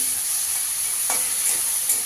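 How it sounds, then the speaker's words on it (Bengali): Prawns frying lightly in a pan for a kochur pata chingri dish, a steady close sizzle with soft spatter and a few small crackles, no voices. "চিংড়ি মাছটাকে একটু হালকা করে ভেজে নেব।"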